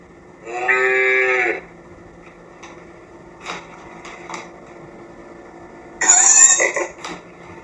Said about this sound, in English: Cattle crossing.